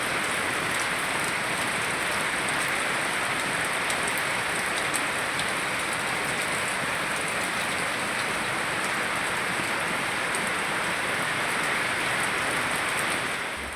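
Heavy rain falls steadily on a surface, a dense, even hiss that stays unbroken and close throughout, with no voices.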